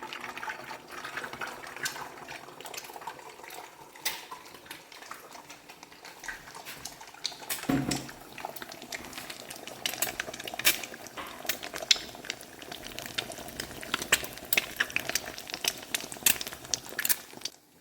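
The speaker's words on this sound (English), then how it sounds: "we're going to slowly pour our eggs into the butter and oil mixture" Steady wet sizzling and bubbling of eggs frying in butter and oil, with faint crackles and a brief pour near the start, no talking.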